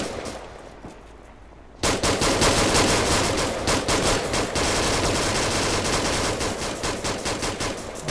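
Sustained automatic gunfire in the video game Arma 3 during a nighttime co-op firefight, loud dense bursts of rapid shots erupting after a quieter moment and continuing without pause.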